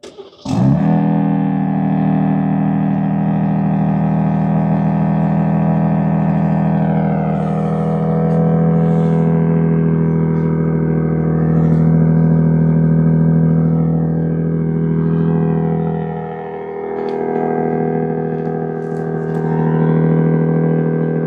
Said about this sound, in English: let's get a relatively cold start here.